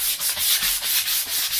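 Sandpaper rubbed by hand over a wooden harp neck and pillar gives a steady back-and-forth rasp, about six or seven close strokes in quick rhythm, with no talking.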